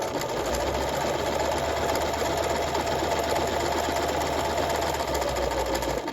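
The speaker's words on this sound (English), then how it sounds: "The most important part about stitching the buttonhole, other than the tension, is that the garment is being transported consistently or evenly throughout the entire length of that buttonhole." A sewing machine runs steadily and quickly while stitching a buttonhole through a garment, giving a continuous mechanical whir with fine rapid rattling and no talking.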